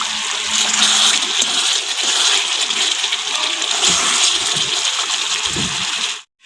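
A meat curry boils in a cooking pot, giving a loud, steady, hissing bubble that runs without a break for about six seconds and then cuts off abruptly.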